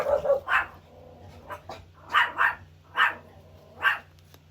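A dog barks in short, sharp bursts, singly and in quick pairs, about seven barks spread unevenly over a few seconds, moderately close against a quiet background hum.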